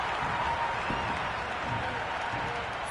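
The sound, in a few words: crowd cheering a boundary in cricket video game Cricket 26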